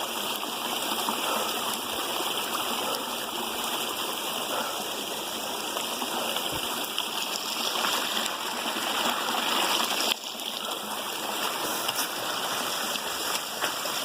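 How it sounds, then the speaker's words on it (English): A small stream crossing a trail on Mt. Whitney rushes and trickles steadily nearby, a constant bright gurgling flow with no voices. "Look at that little tiny stream across the trail."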